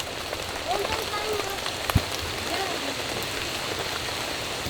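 Light rain falls at a family campsite, a soft steady patter across the whole stretch, with faint bird-like chirps and one brief knock.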